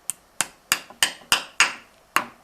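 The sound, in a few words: hammer gently tapping pins into bull whip leather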